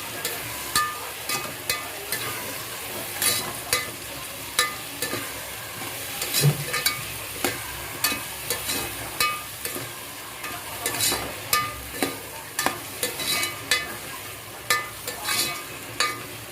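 Cauliflower and potato frying in oil in a pan for mixed vegetable paneer biryani, with a steady sizzle and close, rhythmic scraping as the pieces are stirred again and again.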